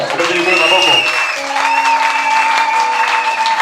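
A church congregation breaks into applause and cheering during a sermon, a dense sustained clapping crowd with raised voices mixed in, loud and close for the whole stretch.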